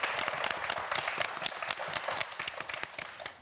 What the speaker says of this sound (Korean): 우리 주희손 학생에게도 큰 박수 보내주세요.